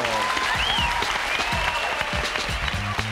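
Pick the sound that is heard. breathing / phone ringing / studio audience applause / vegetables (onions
studio audience applause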